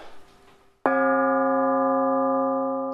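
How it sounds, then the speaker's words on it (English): A heavy bronze bell plate is struck once after a brief low rumble, ringing out loud and near with a sustained bell-like tone that fades only slightly. "also bell plates, which are bronze plates. Sounds a little bit like a bell. Heavy bronze one."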